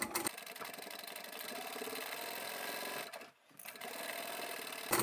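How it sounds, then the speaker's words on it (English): A sewing machine triple-stitches across the handles of a large fabric bag, running in a steady fast mechanical whir with a brief pause near the middle before resuming at close range. "I'm going to triple stitch over that."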